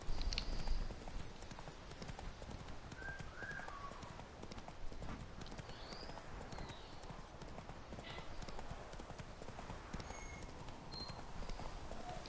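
Roach, the horse in The Witcher game, gallops with a fast, steady clip-clop of hooves at moderate volume throughout, with faint bird-like chirps and a brief voice at the very start.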